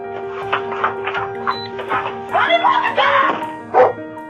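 Several dogs bark, yelp and whimper in rapid, overlapping bursts during a violent dog attack, loud and close with distressed cries rising toward the end.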